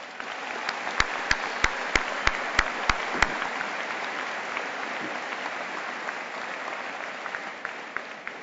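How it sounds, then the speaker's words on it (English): Large crowd at a university undergraduate commencement ceremony applauds in a sustained, moderately loud wash, with a string of sharp, evenly spaced claps or thumps standing out near the start. "Please join me in applauding them."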